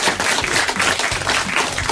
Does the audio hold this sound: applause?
yes